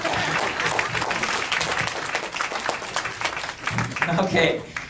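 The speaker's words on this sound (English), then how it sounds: "Clap then." Audience clapping at a leadership conference talk on eliminating seclusion and restraint, a dense burst of applause from a room of people with a voice speaking over it, fading slightly then swelling near the end.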